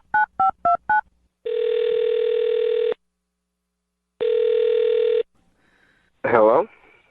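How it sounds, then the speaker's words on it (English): Four short dialing tones in quick succession, then two long steady ringback tones separated by a pause as a phone call is placed. A brief voice answers at the end. "I'll dial his phone number, get him on the phone"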